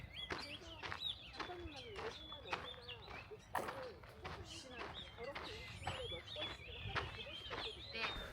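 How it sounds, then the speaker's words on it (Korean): Birds sing and chirp repeatedly through a forest arboretum, a busy series of bright, whistled calls from several birds close by, continuing over faint footsteps and quiet background. "누가 틀어놓은 것 같이 새소리가 배경음으로 계속 나오고 있어요"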